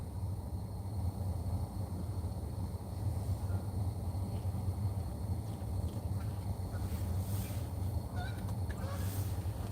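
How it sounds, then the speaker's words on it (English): Geese honk outdoors at some distance, faint calls scattered over a constant low rumbling background that persists throughout, with no talk. "There's the geese."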